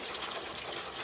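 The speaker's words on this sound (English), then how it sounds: "And then last but not least, I'm going to fill him up with water." Water gushing steadily into a grill's water pan set under a brisket, a close, continuous splashing pour lasting about a second with no talk.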